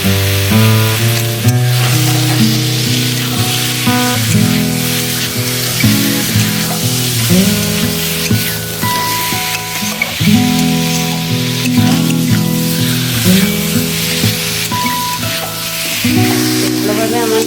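Taro pieces frying in a pan with turmeric and salt, a steady sizzle being stirred, heard underneath loud melodic background music that continues throughout.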